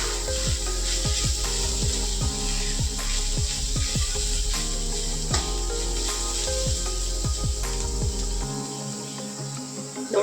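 A spatula stirs ridge gourd chutney in a pan on the gas, making repeated close scraping and rubbing strokes in an even rhythm, with a constant faint hum behind them.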